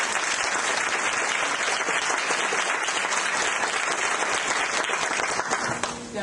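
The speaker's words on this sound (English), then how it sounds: "Let's give the panelists a round of applause." Audience applause for a panel of speakers at a talk on women's financial outlook, a dense, steady clapping from a seated crowd that holds loud throughout and tapers slightly at the very end.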